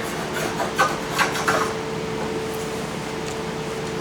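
A hand scraper rasps across a hickory hardwood floor, a steady close abrasive rubbing with a few stronger strokes near the start over a constant background hiss.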